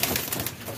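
Pigeons being released from a loft, a soft burst of fluttering wings and low cooing heard close and brief.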